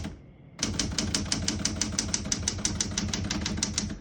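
Keys clacking on a 1974 Smith-Corona Galaxie Twelve vintage portable typewriter, a quick, even run of crisp strikes close up after a brief quiet start, each keystroke distinct and evenly spaced.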